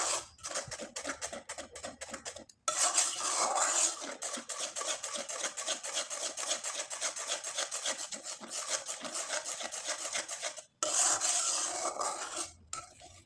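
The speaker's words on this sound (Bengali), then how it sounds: "আর খুব ভালোভাবে নেড়েচেড়ে নিতে হবে।" A spoon scrapes and rubs steadily through thick rice paste in a cooking pot, a continuous close rasping that stops briefly twice.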